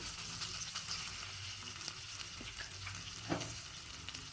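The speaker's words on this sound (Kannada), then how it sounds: "ಇದು ಬಟಾಣಿನ ಹಸಿ ವಾಸನೆ ಹೋಗೋವರೆಗೂ ನಾವು ಇದನ್ನು ಫ್ರೈ ಮಾಡ್ಕೋಬೇಕು" Green peas fry in a little oil for a stuffed puri filling, giving a soft, steady sizzle with occasional stirring scrapes. The frying is faint and close, with no voices.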